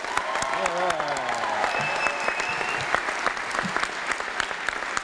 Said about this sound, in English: Let's give these graduates one more round of applause